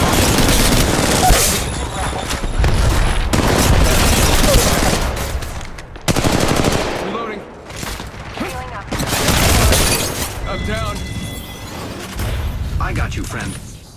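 Arc Star grenade blasts and rapid gunfire in Apex Legends Mobile, loud and dense bursts of shots and booms filling the whole stretch, with brief pauses and an electronic voice speaking over the action.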